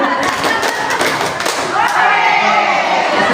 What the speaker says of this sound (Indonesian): Tepuk gembira.